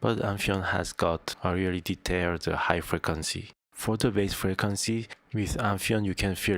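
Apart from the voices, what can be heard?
No distinct noise like a dog, phone or traffic.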